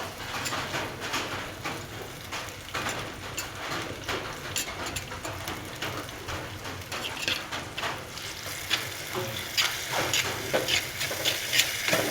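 Tomato, ginger and garlic paste sizzles and hisses in a hot pan for a fish curry, a steady close frying crackle with occasional stirring scrapes that grow slightly louder toward the end.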